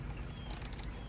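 A 10 mm ratchet wrench clicks a few quick times while loosening a battery terminal on a Subaru Impreza, close and fairly faint.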